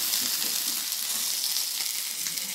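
Potatoes frying in a pan, a dense continuous sizzle with soft scraping as they are stirred, close and even throughout with no voices.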